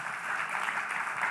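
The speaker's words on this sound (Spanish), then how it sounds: "Voy a pedir que le demos un aplauso de alabanza fuerte." A church congregation claps together in praise, a steady, dense wash of applause that holds evenly throughout without any voices on top.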